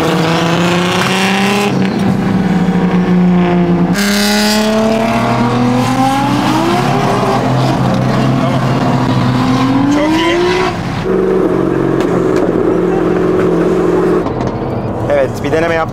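Two fast cars race on an Istanbul street, engines roaring loud and close as each one revs up through rising gears, dropping back and climbing again over about sixteen seconds.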